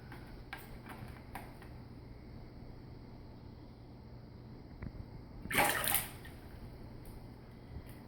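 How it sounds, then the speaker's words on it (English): Balloons held underwater are let go and burst up to the surface with one short, bright splash near the middle, after a few faint ticks and drips of water in an otherwise quiet setting. "look to see which one had the bigger splash"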